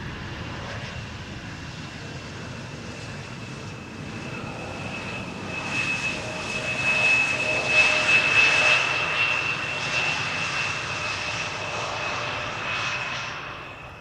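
Fixed-wing airliner, a six-year-old aircraft first flown in January 2018, arriving at Schiphol's Polderbaan runway: a steady broadband jet roar that swells as it passes closest around the middle, then eases, with a thin whine riding on top; no talk.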